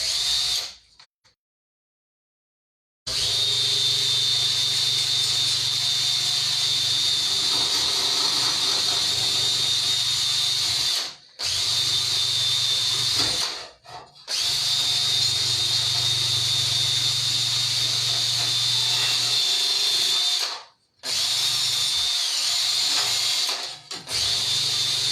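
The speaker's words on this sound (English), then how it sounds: "This is a metal brush, very old, very dented and irregular" An old, dented, irregular metal wire brush scrapes over a surface in long continuous hissing strokes, broken by several short pauses, with no talking.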